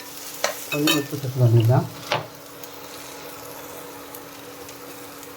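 Onion-style ingredients with turmeric and salt are stirred and sautéed in a pan, giving a soft, steady sizzle. A voice talks briefly over the frying before it continues alone.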